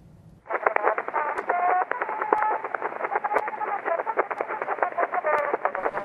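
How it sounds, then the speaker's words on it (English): A faint, scratchy 1878 tinfoil phonograph recording of a musical performance with a thin, buzzy tone and constant crackle and hiss, the melody barely discernible beneath the noise. "what you're hearing is the first ever recording of a musical performance originally captured in June of 1878 on tinfoil"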